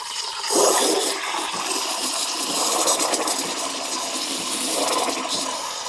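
Wirsh Home Barista Plus espresso machine steam wand frothing milk, a steady loud hiss and gurgling roar that swells briefly near the start and keeps going without pause, with no talk over it.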